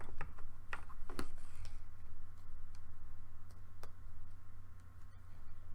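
Tarot cards are shuffled quietly up close, giving soft scattered ticks and light flicks of card edges over a low steady hum, with no talking.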